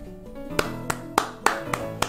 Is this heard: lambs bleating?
no